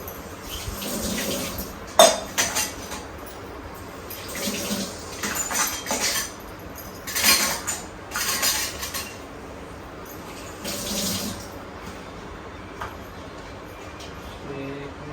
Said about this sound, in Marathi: देवाची जरा भांडी घासून घेऊया